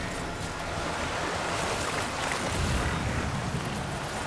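Flowing river water in the video game Death Stranding 2, a steady broad rushing wash, loud and continuous with no breaks.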